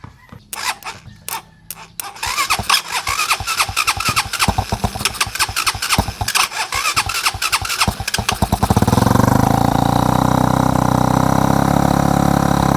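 A motorcycle engine is kicked and cranked in sputtering bursts, then catches and settles into a loud, steady idle that runs too high, close by with no talk.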